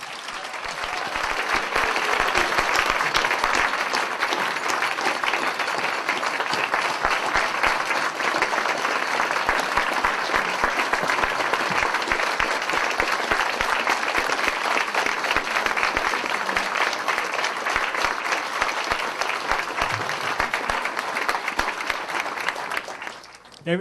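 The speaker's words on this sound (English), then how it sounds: "let's have one more round of applause for all the students" A large audience gives the students a long, sustained round of applause, a loud, dense roar of clapping that holds steady for over twenty seconds before tapering off abruptly at the end.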